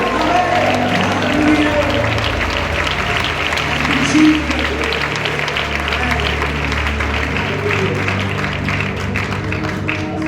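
Applause from a congregation at a church service, steady dense clapping filling the room with crowd noise throughout, continuous and fairly loud.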